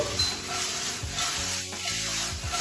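Celeriac pieces roast in an oily pan, sizzling and crackling steadily throughout, with a few louder stirring scrapes and shuffles near the middle.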